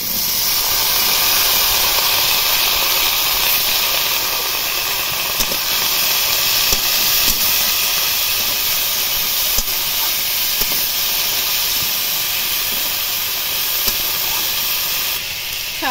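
Chopped jackfruit seeds frying in a pan with onion and green chilli, a loud, continuous close-up sizzle and hiss with small crackles, steady from start to finish and free of talk.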